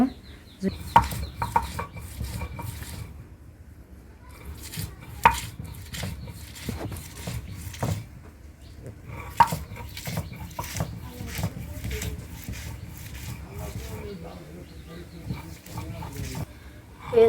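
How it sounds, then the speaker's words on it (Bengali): Onions are ground into a paste on a stone grinding slab, making a steady rough scraping and rolling with occasional harder knocks. Distant chickens cluck and a dog is audible in the background. "পেঁয়াজগুলো আমার এই যে বাটা হয়ে আসছে মিহি হয়ে গেছে"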